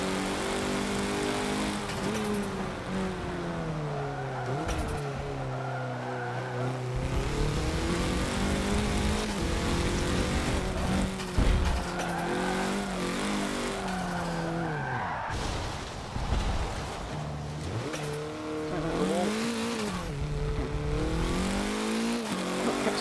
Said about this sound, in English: A lot of whistly turbo noises.